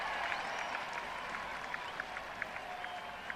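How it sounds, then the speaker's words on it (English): A cricket crowd at a 1976 England v West Indies test match applauds and cheers, a broad, somewhat distant roar of clapping and voices with scattered sharper claps and whistles poking through. "Great roar from the crowd."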